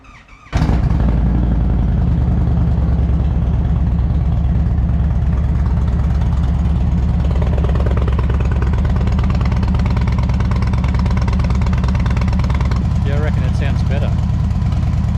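An engine running lean idles steadily and loudly up close after a sudden start, running with a low, even rumble throughout.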